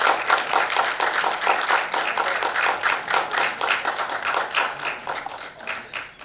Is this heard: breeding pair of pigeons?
no